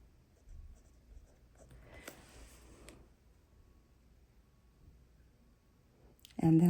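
A pen scratches across the page of a Bible journal, a faint, soft scraping with a brief louder stroke in the middle before a sudden loud noise at the end.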